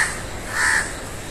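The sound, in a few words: crow cawing on a pillar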